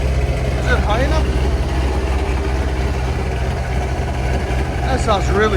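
A 1969 Chevy Corvette V8 with headers and a Borla Atak exhaust idles with a steady, deep, loud rumble, while voices rise briefly over it near the start and end.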